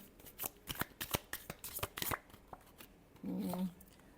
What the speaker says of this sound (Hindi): लास्ट शफल देखते हैं।